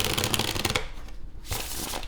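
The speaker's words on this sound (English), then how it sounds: "let's go ahead and get one more shuffle in here for you" Tarot cards riffle and slap together in a quick shuffle, a dense papery burst followed by a brief pause and another flurry, close and clear with no talking.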